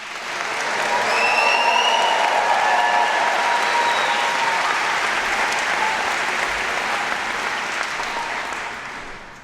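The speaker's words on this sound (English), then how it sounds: "Could we have one big cheer, please, now?" A graduation ceremony audience at the University of Chester breaks into sustained applause and cheering, with a few whistles rising above the dense, even clapping before it gradually tapers off.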